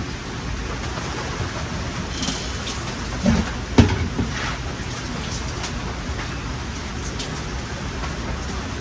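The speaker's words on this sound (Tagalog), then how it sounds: "Hindi na natigil ang ulan." Heavy rain pours in a dense, steady hiss close by, with a couple of brief knocks partway through.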